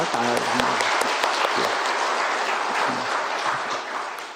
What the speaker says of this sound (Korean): 우리 시온 찬양대 격려의 박수로 잘했다